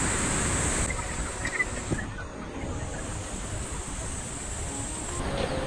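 Steady broadband rush of a waterfall heard from a shaded forest path on the Izu Peninsula, a continuous, fairly loud roar that stays even throughout with no talking.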